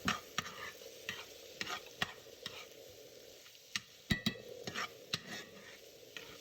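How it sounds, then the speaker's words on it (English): A spoon stirs spiced Jamaican curry chickpeas with black pepper in a pot. The stirring comes as repeated close scrapes and clinks over a quiet sizzle, irregular and fairly soft. "And keep stirring it."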